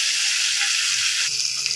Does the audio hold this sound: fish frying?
yes